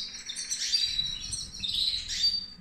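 Pet birds in an aviary chirp in quick, bright bursts close by, clustering in two busy flurries with soft rustling underneath.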